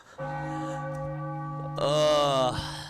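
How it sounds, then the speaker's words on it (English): A loud ringing bell celebrating during a live Philadelphia 76ers vs. Miami Heat play-by-play broadcast, a sustained resonant tone that swells and brightens partway through, with no talk over it. "Ring that bell."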